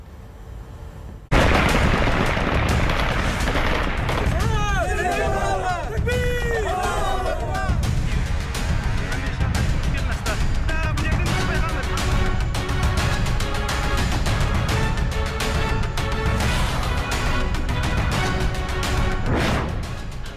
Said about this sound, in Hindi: तालिबान ने गोलियों की तरतराहट से इसका जश्न मनाया।